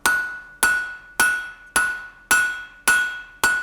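Hammer blows on steel stock over an anvil at a blacksmith's forge, seven sharp ringing strikes at a steady rhythm about half a second apart, each with a bright metallic ring that decays before the next hit.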